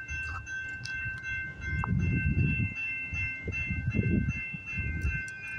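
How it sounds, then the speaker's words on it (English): A CPKC freight train nears a level crossing at night, a low rumble building and swelling in the distance while a steady tone from the crossing signal rings above it, with no talking. "Here comes the train."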